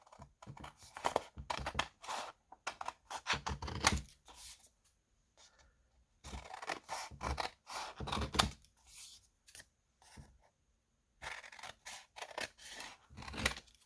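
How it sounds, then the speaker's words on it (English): Scissors cut out washi paper doll tags with quick crisp snipping and rustling paper, in bursts separated by short quiet pauses, close up. "I'm going to start out by just cutting straight down."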